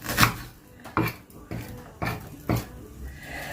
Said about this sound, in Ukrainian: нарезаем цибулю